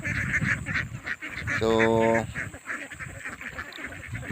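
Domestic ducks raised as livestock give a loud, nasal run of quacks midway through, with more scattered calls and someone speaking briefly over the flock.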